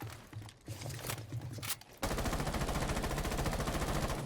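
Rapid automatic gunfire from a favorite gun in Rainbow Six Siege, a dense steady stream of shots that starts midway and continues loud to the end, preceded by scattered shots and footsteps.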